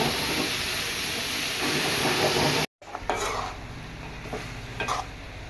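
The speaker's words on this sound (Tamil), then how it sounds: "நல்லா கிண்டி விடுறேன் பாருங்க" Grated pumpkin stir-fry being stirred in a pan, a steady broadband scraping and sizzling that stops briefly midway, then resumes with sharper, intermittent scrapes of the spoon against the pan.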